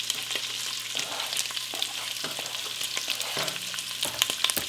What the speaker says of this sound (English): to our browning meat, I'm going to add 1/4 of a chopped onion